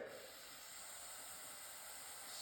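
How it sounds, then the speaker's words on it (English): Carburetor cleaner hisses out of an aerosol can in a steady, close spray while a Cub Cadet snowblower carburetor is being cleaned, a continuous breathy rush lasting the whole moment. "I'd take your carb cleaner and I'd spray it"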